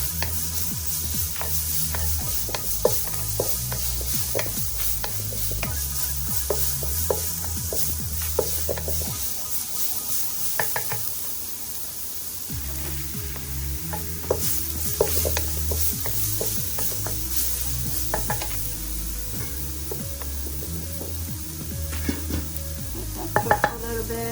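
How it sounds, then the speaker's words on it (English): Garlic frying in olive oil for a bitter deer soup gives a continuous sizzle, broken by frequent scraping and tapping of a utensil against the pot. A low, steady rhythmic backing plays throughout and no one talks. "I'm gonna fry my garlic."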